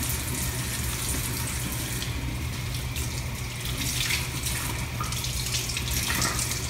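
Hot tap water runs steadily into a sink while makeup brushes are rinsed and scrubbed at home, a continuous close splashing stream with no talking.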